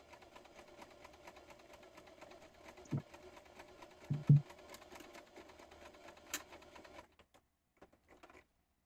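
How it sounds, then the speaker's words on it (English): A sewing machine hums and stitches at low volume with a steady mechanical whir, broken by a few louder clunks midway, then stops and leaves brief faint taps. "Oh, my sewing machine sounds so nice today."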